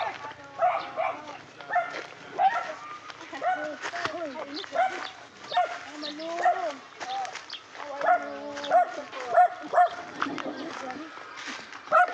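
A family dog barks in repeated sharp yips throughout, fairly close, with people talking in the background.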